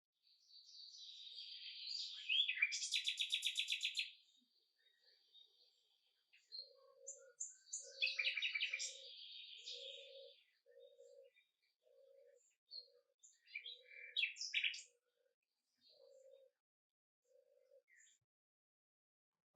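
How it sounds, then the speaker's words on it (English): A European nightingale sings alone in clear bursts of varied whistles, trills and rapid chirps, with a soft, evenly repeated low note pulsing beneath some phrases. "European nightingale."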